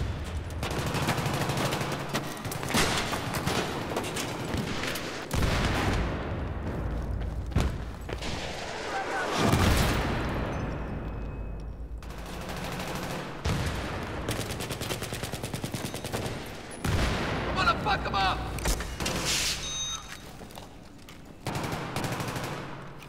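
Gunfire in the Battlefield 3 video game: repeated loud bursts of automatic fire and single shots, some booming, spread across the whole stretch with short gaps between volleys.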